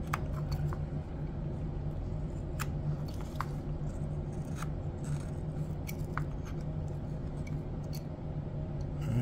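A carving knife slicing through cottonwood bark while shaping a gnome, a close, steady scraping hiss broken by occasional sharp little clicks and cuts, without speech.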